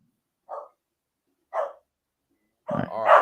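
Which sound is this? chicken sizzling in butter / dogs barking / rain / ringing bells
dogs barking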